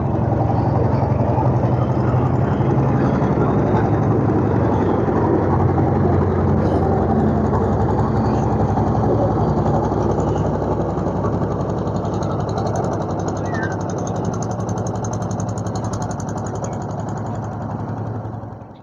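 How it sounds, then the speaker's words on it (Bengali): A motor boat engine runs on the Bhairab river in Khulna, Bangladesh, just started and chugging in a steady, loud, close drone with a fast mechanical putter throughout. "বন্ধুরা দেখতে পাচ্ছ নৌকা সবে চালু হয়েছে"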